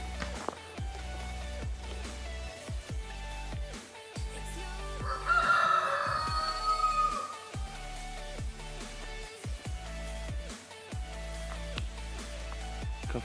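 A rooster crows clearly in the middle of a busy farmyard with ducks and chickens at a glamping site, with steady chickens clucking and scattered clicking noises throughout.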